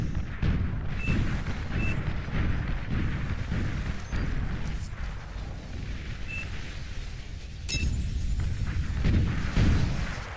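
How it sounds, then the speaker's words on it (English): Laser turrets fire in the strategy game Beyond All Reason, a dense stream of booming, crackling blasts over a continuous rumbling battle bed, with sharp zaps standing out here and there. "These are laser turrets."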